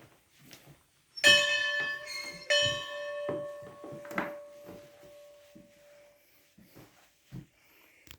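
A bell at Mount Locust on the Natchez Trace rings out twice with bright, sustained metallic tones, the second strike decaying slowly, followed by faint shuffling and quiet background noise.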